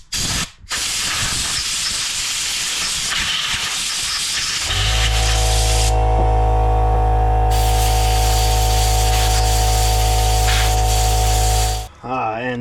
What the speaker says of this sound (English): All right, compressed air incoming.